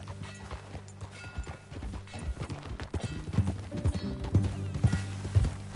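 Horse hooves clip-clop steadily during a ride in the video game Red Dead Redemption 2, mixed with music and game ambience, the hoof beats growing louder and more prominent toward the end.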